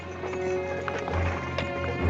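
Horses with riders galloping on a dirt trail in a Western setting, hooves drumming in quick close clip-clop rhythm, loud and steady over a low rumble, with a brief whinny-like cry and faint background voice.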